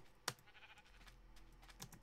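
Sheep bleating in Minecraft, two short faint bleats heard apart over a low background hum and soft clicking.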